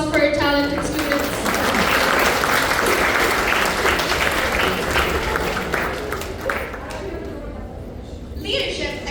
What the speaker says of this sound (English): Let's have a big round of applause for our talented students.